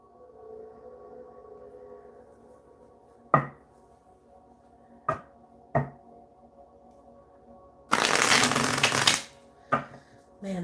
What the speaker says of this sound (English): So Miss Cheryl, I'm going to start pulling cards for you.